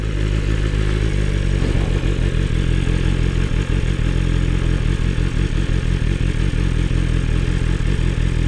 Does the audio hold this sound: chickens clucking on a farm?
no